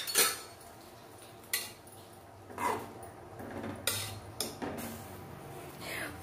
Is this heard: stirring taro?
yes